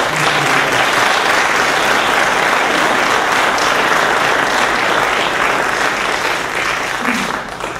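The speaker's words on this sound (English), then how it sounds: "Let's give these gentlemen a round of applause" Sustained audience applause fills a candidates forum hall, dense and loud for the whole stretch before fading slightly at the end.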